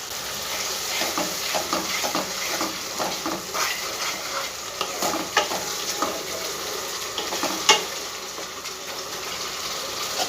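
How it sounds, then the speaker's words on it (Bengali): Spice masala frying in a pan with a continuous loud sizzle and hiss, with repeated stirring scrapes close by throughout, and no talking. "খুব ভালো করে মশলাটা আমি ভাজবো।"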